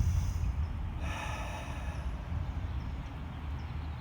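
Deep, audible breath during a hip stretching exercise in a hip mobility class, a long exhale swelling midway over a steady low background hum, with no talking.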